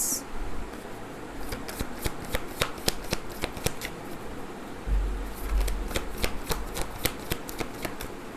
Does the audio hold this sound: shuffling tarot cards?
yes